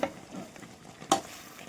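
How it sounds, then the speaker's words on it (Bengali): Chicken chaap being stirred with fried masala in an oily pan, a soft sizzle with a few scraping spoon strokes and one sharper clink of utensil on metal, quiet and close. "ভালো করে নেড়ে নিচ্ছি"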